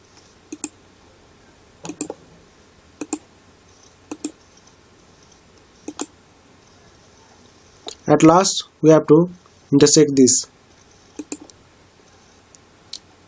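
A computer mouse clicks while drawing in AutoCAD, giving sharp single clicks about a second apart. Someone briefly speaks in the middle, and the clicks then resume.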